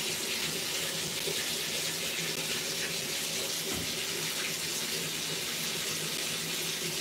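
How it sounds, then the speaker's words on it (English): Running water pours steadily from a hose or tap while rinsing oil out during a wash session, a dense continuous hiss that stays loud and unchanging throughout. "I'm gonna rinse all this oil out, you know. Wet it, rinse it, so I can suds it up."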